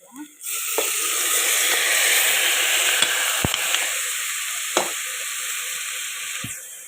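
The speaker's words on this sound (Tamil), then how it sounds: "சேர்த்து நல்லா கலந்து இந்த மாதிரி நல்லா எல்லாம் கலந்து விட்டுட்டு" Tomatoes being stirred into eggplant and potatoes frying in a pan, a loud steady sizzle running throughout, with a few sharp scraping taps of a spoon close by.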